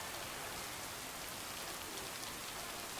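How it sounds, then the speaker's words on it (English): Steady rain pours down in the farming video game Lake, a dense, even hiss of drops on surfaces that holds at constant loudness throughout with no voices over it. "Can't harvest taters with all this rain."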